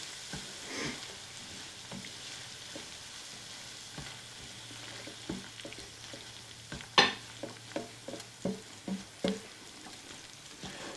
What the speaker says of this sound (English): let me stir this in quickly